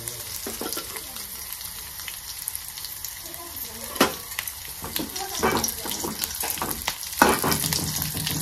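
Buttermilk hits fried garlic and green chilies in a hot pan for Marathi kadhi, giving a steady close sizzle with stirring clatter and a few sharp scrapes.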